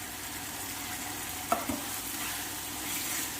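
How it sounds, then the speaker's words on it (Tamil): Onions and spices sauté with turmeric powder in a pan for Chettinad chicken gravy, giving a soft, steady frying hiss with a couple of sharp stirring clinks midway. "இப்போ இது போட்டு கொஞ்சமாக வதங்கட்டும்."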